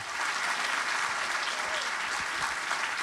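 An audience at the Cannes Film Festival 2021 greets a guest with full, even applause, a dense and fairly close roar of clapping that stays steady for three seconds with no voices.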